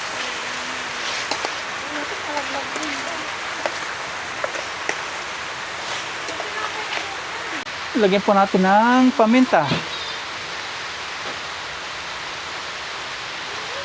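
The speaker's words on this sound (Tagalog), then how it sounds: "Ang sarap magluto ng ganito, umuulan-ulan" Steady rain pours down around an outdoor cooking spot at a mini farm, a dense hiss mixed with frying in a pan, while a person speaks briefly midway.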